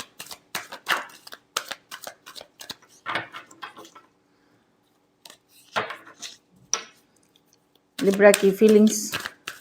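Tarot cards are shuffled by hand in a few short papery riffles and flicks, close and crisp, between stretches of someone speaking Hindi.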